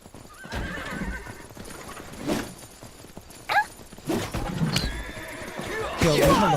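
In the game Myth of Empires, a horse whinnies and neighs several times while hooves clip-clop nearby, with scattered combat clatter around it, fairly quiet overall and building toward the end.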